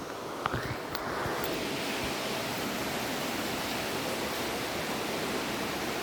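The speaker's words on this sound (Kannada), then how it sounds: "ಮೇಲೂ ನೀರು ಬಿಡ್ತಿದ್ದಾರೆ ಏನೋ ಸೌಂಡ್ ಆ ರೀತಿ ಕೇಳಿಸತ್ತಲ್ಲ" Steady broadband rush of water being released upstream, a continuous roar that stays even and fairly loud throughout with a few faint knocks near the start.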